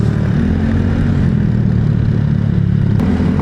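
A Raider motorcycle engine runs loud and close, a steady rough idle with a constant low throb and no change in pace.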